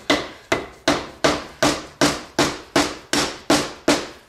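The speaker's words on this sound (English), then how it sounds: "here's a hammer that is designed not to mar any of these surfaces" A plastic or brass non-marring hammer strikes metal car parts during a CV boot replacement, landing about a dozen sharp, evenly spaced blows, each ringing and decaying before the next, loud and close with no talk.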